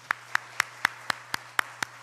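A single pair of hands claps steadily at a church general meeting, about four sharp claps per second, close and clear over a low constant hum.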